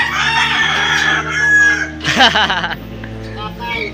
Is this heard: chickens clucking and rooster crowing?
yes